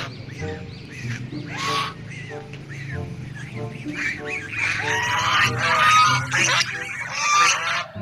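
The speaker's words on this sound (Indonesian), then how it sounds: "Wow, ini bebek." Geese and ducks honk repeatedly at close range, a noisy chorus of overlapping calls growing louder toward the end.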